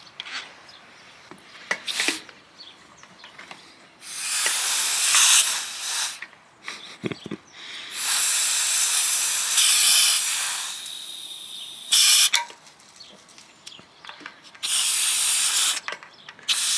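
Bicycle tyre pump used to let air out, releasing several loud, broad hissing bursts of a few seconds each, separated by quieter gaps with faint rubbing and handling noises.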